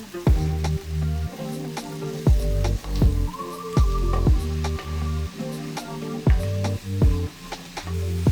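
Mushrooms and zucchini sizzle in a pot for a vegan one-pot stovetop lasagna, a steady close frying crackle under repeated sharp clinks and scrapes of a utensil stirring, with music-like tonal layers running underneath.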